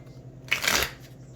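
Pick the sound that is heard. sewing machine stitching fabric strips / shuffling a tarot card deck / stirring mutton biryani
shuffling a tarot card deck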